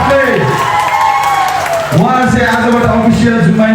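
A crowd at a Zumba event applauds and cheers for an instructor, a steady wash of clapping and whoops running beneath continuous amplified speech from a host.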